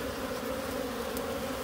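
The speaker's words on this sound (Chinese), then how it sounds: "等一下蜜蜂进去，太多蜜蜂出来了。" Swarm of honey bees buzzing around an opened hive while wild honey is dug out in winter, a dense steady hum filling the space close by, continuous and without talk.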